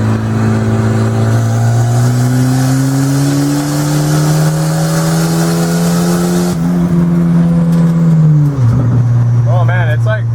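A bent-framed Volvo 940 pulls hard in third gear, its engine note climbing steadily up close before easing off near the end.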